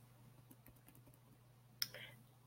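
Faint, soft keystrokes tap at a computer keyboard in a quick irregular run, followed by one sharper, louder key press, all close and quiet against a low background hum.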